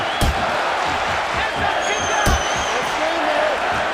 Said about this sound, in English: The crowd showing their support for Brock Lesnar.